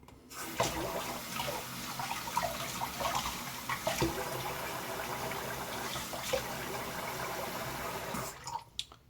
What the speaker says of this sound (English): Sorry, gotta wet this cloth real quick.